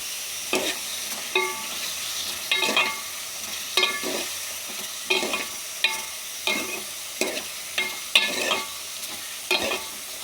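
A spoon scrapes and stirs radish sambar with turmeric in a frying pan, giving about a dozen short, regular metallic scrapes over a soft sizzle, close and without talk.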